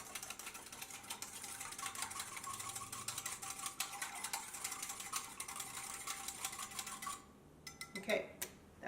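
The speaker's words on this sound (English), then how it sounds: "And we're going to go ahead and whisk this to combine." Seasoning blends for a turkey injection are whisked in a bowl, making a fast, continuous scraping clatter of metal against the bowl for about seven seconds before it stops, followed by a couple of faint clinks.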